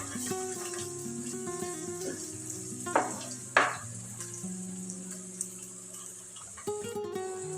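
Shallots frying in a pan for a fish curry, with a steady soft sizzle and a few sharper scrapes of stirring. No talk is heard over the cooking.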